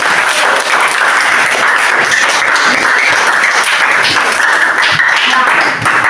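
A group clapping hands in steady, dense applause during a classroom coding and computational thinking lesson, loud and continuous from start to finish with no talking over it.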